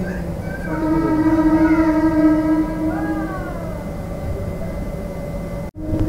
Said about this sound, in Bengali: ওই যে বাগবাজারে ক্রস করছে দেখো, ট্রেনের আওয়াজ